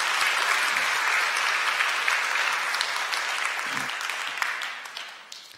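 A church congregation claps in welcome during a Sunday worship service, a steady, dense round of applause lasting several seconds and tapering off toward the end.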